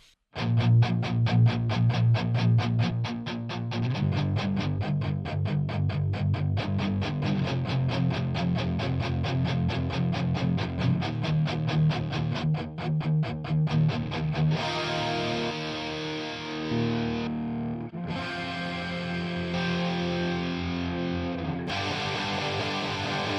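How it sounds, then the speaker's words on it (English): Bright, high-end rock guitars from the full mix of a song, boosted around 8K, play a dense, distorted rhythmic part that drops out briefly twice near the end before resuming. "And then the high-end guitars are here."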